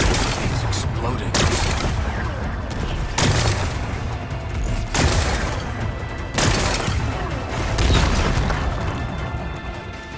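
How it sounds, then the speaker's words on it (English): Repeated heavy explosions from a power cell blowing up in Horizon Forbidden West, several loud booming bursts spaced a couple of seconds apart over a continuous rumbling game soundscape. "It's exploding."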